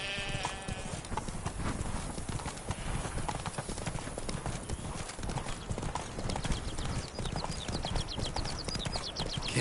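Geralt's horse Roach gallops in Witcher 3 with rapid, rhythmic hoof clip-clops that continue steadily throughout, set against game ambience and faint background sound.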